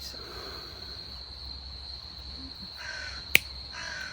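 A crow caws twice outdoors at dusk, harsh rasping calls at moderate distance over a steady background hum, with a sharp click between them.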